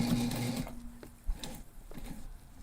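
A sewing machine runs a short burst of stitches through backpack fabric, then stops, leaving faint handling clicks and taps from nearby.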